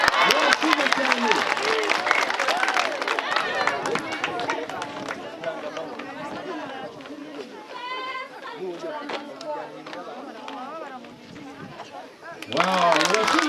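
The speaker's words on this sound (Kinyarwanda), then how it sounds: "Amashyi menshi." Applause from a ceremony audience follows a girls' marching drill, a broad wash of clapping mixed with crowd chatter and voices that fades through the middle and swells loudly again at the end.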